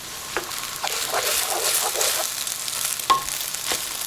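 Vegan noodles stir-fry in a hot pan, with a steady sizzle broken by scraping and stirring clatters.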